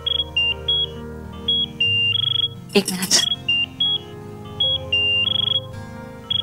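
A phone rings with repeated electronic beeping tones in short bursts, briefly interrupted by a burst of noise and a few spoken words.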